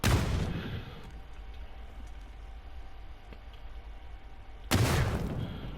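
Two heavy grenade blasts in PUBG, one at the start and one near the end, each a deep, loud boom with a rumbling tail, separated by a few seconds of quieter ambience.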